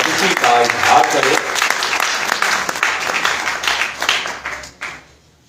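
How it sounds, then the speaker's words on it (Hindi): A church congregation at a Christmas Vigil Mass breaks into loud, sustained applause with dense clapping, then it tapers off and stops near the end, with some voices mixed in. "एक दफा तालियां बजाएं, भरपूर तालियां"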